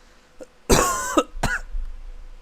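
A person coughs hard on their own mucus: one long, harsh wet burst, then a short second cough, close and loud, with faint throat noise after.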